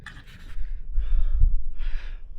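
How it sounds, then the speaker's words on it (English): Gusty outdoor wind buffets the microphone during a metal-detecting dig, giving low rumbling thumps in a few uneven bursts along with breathy hissing. "Sorry about the wind if you can't hear me."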